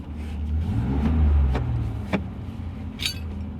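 A BMW 7 Series engine, freshly running after injector cleaning and new connectors, revs with a low rumbling swell that peaks and eases, with a few sharp clicks and a brief jingle near the end.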